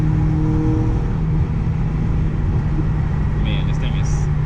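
An Audi B6 A4 2.0 turbo with a full ECS catback exhaust accelerates on a night commute, its steady deep exhaust drone loud and close, with a few faint high chirps near the end.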